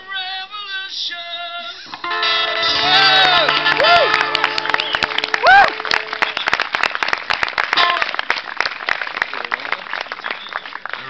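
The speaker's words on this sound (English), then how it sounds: "They're applauding." During a sound check for a song, an audience claps and cheers in a busy burst after piano and singing, loud applause mixed with scattered shouts.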